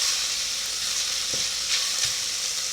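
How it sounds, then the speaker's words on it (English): Onions fry in a pan for a lentil and kumara curry, giving a steady, close, loud sizzle with a few faint stirring scrapes and no talking. "Onions are cooking up a bit."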